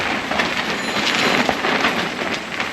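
Strong wind and steady rain at a campsite at night, Kamp Kokomo, roaring as a dense, continuous wash of noise that stays loud throughout with no voices.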